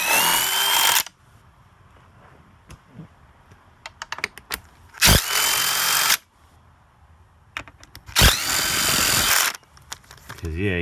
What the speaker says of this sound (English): Sitting down with the power tool.